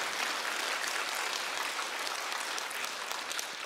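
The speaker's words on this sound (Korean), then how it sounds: "박수." Audience applause at a Wednesday church worship service, steady broadband clapping from a crowd, moderately quiet and even throughout with no talk.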